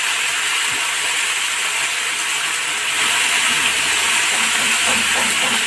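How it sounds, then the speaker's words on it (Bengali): Sliced cauliflower stalks and vegetables dropped into a hot pan for a Bengali chorchori give a loud, steady, dense sizzle that hisses on without a break, close up and with no talking. "এবার তরকারিগুলো দিয়ে দেবেন।"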